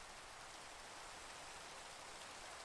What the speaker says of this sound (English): I know we're standing in the rain